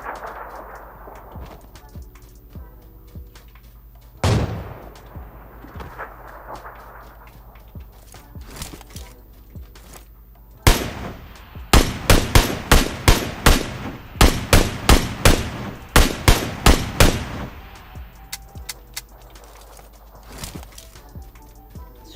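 Gunfire in the battle royale game PUBG: scattered single shots early, then a rapid run of loud, evenly spaced bursts in the middle stretch, fading to quieter background sounds with a brief voice.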